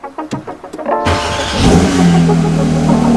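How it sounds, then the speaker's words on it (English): Cold start of a new Porsche 992 GT3 engine: a few cranking chugs, then the flat-six catches and flares into a loud, close roar before settling into a high, steady idle. "Cold start on a new 992 GT3."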